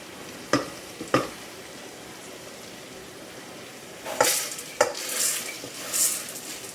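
A spoon stirring turmeric in oil, then rice going into the pan for yellow rice: a few metal clinks over a quiet sizzle, followed by louder bursts of scraping and rustling as the grains are poured and mixed.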